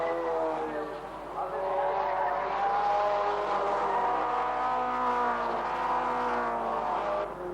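Race cars in a 1988 Production Car Championship round roar together in a steady, loud engine drone with harmonic whine, tires squealing faintly, while a commentator talks over the pack.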